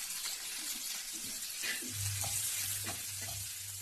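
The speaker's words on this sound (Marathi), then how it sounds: "पहिलं तेल टाकले, त्यात जिरे टाकते, त्यानंतर बारीक चिरलेला कांदा" Chopped onion frying in oil with cumin seeds, a steady broadband sizzle with stirring scrapes, and a low hum running beneath it.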